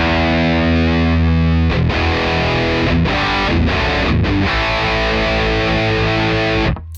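Electric guitar played through a REVV G4 distortion pedal with its aggression switch set to blue, giving thick, high-gain distorted chords and riffs with brief pauses between phrases, loud and alone until a sudden cutoff at the end.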